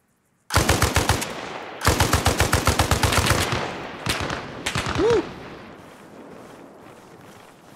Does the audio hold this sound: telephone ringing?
no